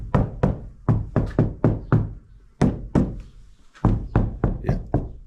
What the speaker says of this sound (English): definitely hear that solid knock